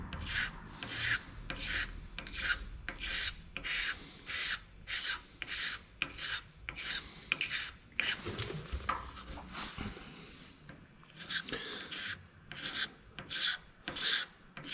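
Car bodywork on a Suburban is wet sanded by hand in rhythmic back-and-forth strokes, each pass a loud, close, gritty rub. The strokes repeat steadily with a short irregular break partway through.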